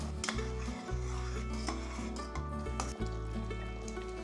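A spoon scrapes and rubs through a simmering cabbage dal stew in a cooking pot, repeated soft scraping strokes close up, with a steady background drone and no speech.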